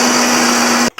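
A mixer grinder blending ginger and garlic with a little water into paste: a loud, steady high-pitched motor whine that stops abruptly, then restarts briefly.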